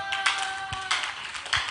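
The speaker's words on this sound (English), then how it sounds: "Are you clapping or you are trying to?" A church congregation claps in a few scattered bursts, light and uneven, about four distinct clusters of hand claps without voices.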